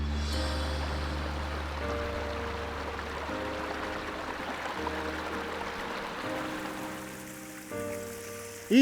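Small creek flowing beside a trail, a soft steady trickle and burble under a low engine-like hum, fairly quiet throughout.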